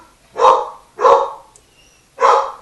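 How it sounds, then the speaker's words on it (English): Three loud, close dog barks spaced about a second apart, with short quiet gaps between them and no voices. "He likes to bark at everything."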